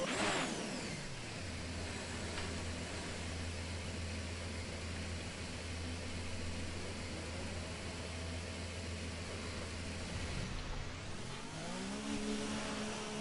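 A Ferrari Formula 1 car in F1 2019 pulls out onto the track from the garage, its steady engine drone holding loud and even before rising in pitch near the end, with no talk over it.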